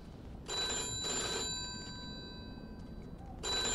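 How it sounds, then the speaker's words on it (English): A telephone rings in Mafia II, a 1951-era mafia video game, two bright electric bell bursts followed by a quieter gap, then a third ring starting, clear and close in a quiet room. "Answer the phone."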